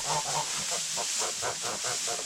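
Geese, with ducks nearby, calling from inside a winter goose house as they are brought in. About eight rhythmic, nasal, fairly quiet honks repeat steadily over a hissy background.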